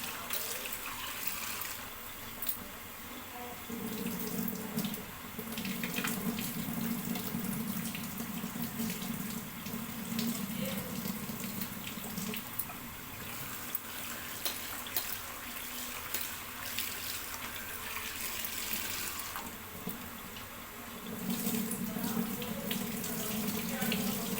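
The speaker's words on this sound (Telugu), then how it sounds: "మెంతికూరలు అయితే ఇలా వాటర్ వేసుకుంటూ" Tap water runs steadily into a sink while fenugreek leaves are swished and rinsed, a continuous splashing rush with small shifts in flow.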